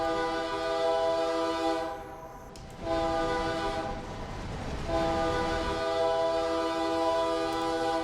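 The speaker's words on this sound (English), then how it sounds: "There's our railroad crossing horn." A freight locomotive horn sounds for a railroad crossing in Train Simulator, long loud sustained blasts with a short gap between them, over the steady rumble of the moving train.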